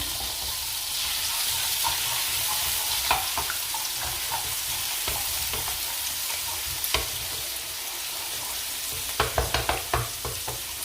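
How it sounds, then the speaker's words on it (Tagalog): Egg frying in a hot pan for Thai fried rice with pork, a steady close sizzle with occasional stirring scrapes and a short run of clinks near the end. "lulutuin natin yung itlog"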